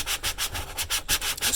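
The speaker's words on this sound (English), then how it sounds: "we're going to first sand this down real quick" 180-grit sandpaper is rubbed back and forth over an RV fresh water tank, a rhythmic, close scratchy rasp in quick strokes with short gaps between them.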